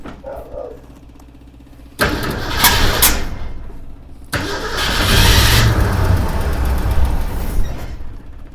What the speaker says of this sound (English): See if we can get her to fire up again. Maybe just by pumping the gas.